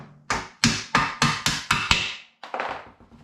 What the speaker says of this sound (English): We should just be able to tap this pin through.